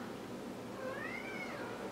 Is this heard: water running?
no